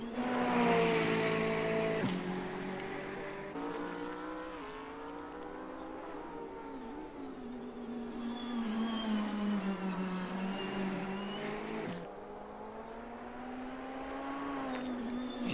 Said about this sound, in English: So we're watching Michael now as he heads on down into the chicane, sitting P6.